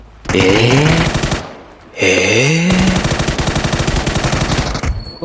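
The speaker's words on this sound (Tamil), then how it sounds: "ரைட் சைடில் இருந்தா புல்லட் சவுண்டு கேட்டுச்சு உனக்கு?" Rapid automatic gunfire in the shooter game PUBG, two loud sustained bursts of rattling shots close together, with a brief pause between them.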